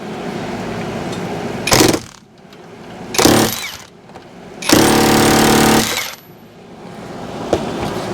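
A half-inch drive offset impact ratchet hammers on a vehicle bolt in three loud, close bursts of rattling impacts, each lasting one to one and a half seconds, separated by quieter background hum.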